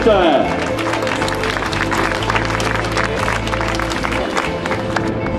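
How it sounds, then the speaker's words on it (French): Crowd applauding the winner on the podium of the Essor Breton 2011 cycling race at Landerneau, steady dense clapping throughout over a loud public-address voice and music. "Vous pouvez l'applaudir très très fort, Romain Smet."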